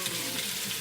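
Okra omelette sizzling and frying in a Noxxa pressure cooker, a continuous loud hiss of hot oil heard up close with no talking.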